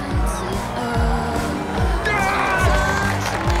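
A crowd cheers and applauds at a wedding, a dense, continuous wash of clapping and voices with rhythmic low thumps beneath and chatter mixed in.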